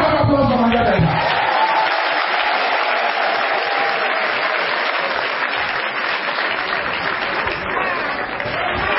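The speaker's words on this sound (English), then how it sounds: "Round of applause for Niger Delta." A large crowd at a Niger Delta commemoration of June 12 and MKO Abiola's victory breaks into loud, sustained applause, dense clapping and cheering filling the space steadily from start to finish.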